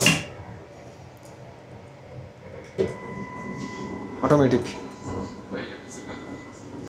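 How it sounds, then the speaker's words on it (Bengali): Swiss Bernina Express train running at about 150 km/h, heard from inside the carriage as a steady rumbling roll with a few clanks and rattles, under someone speaking. "আর ট্রেন চলছে সাই করে 150 কিলোমিটার প্রতি ঘন্টায় ট্রেন ছুটছে"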